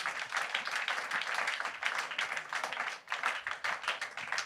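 A church congregation at a Sunday evening service applauds, a lively stretch of many hands clapping at moderate volume with a brief dip before resuming, no talking heard.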